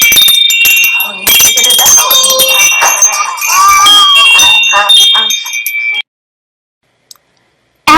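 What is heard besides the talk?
wind chime ringing as a child plays with it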